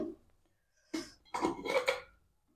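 Pasta tipped into a pan of fried capsicum and onion makes a brief tap followed by a clattering rattle, close and fairly quiet, with no speech.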